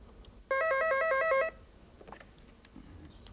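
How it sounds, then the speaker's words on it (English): A telephone rings once with a bright, warbling electronic tone for about a second during a demonstration call, loud and clear, followed by faint room noise. "I'm first going to make a perfectly normal call, as I did before, to Joe from this telephone."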